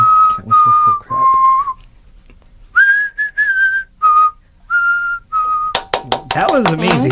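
A person whistles a short tune in clear, close, loud notes with brief pauses between phrases, ending in a burst of clattery percussive noise.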